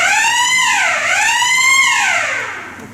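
Siren effect on a theater organ, a loud wailing tone that sweeps down, climbs back up, dips again and rises before fading slightly, rich in bright overtones and heard alone.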